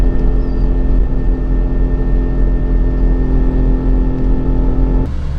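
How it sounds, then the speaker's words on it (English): A car's differential making odd noises, heard as a steady loud drivetrain hum with a low droning engine tone and faint whine, running continuously, close and without talk. "I'll put some video right here of the sound that the diff is making"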